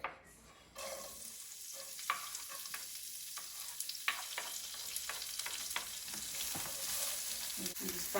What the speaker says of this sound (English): And just fry these until they're kind of browning.